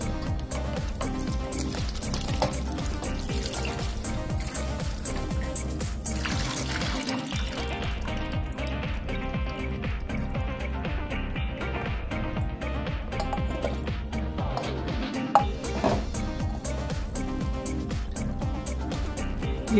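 Continuous splashing and running tap water as snails are washed and rinsed by hand, with sloshing, clattering shells and occasional louder splashes throughout.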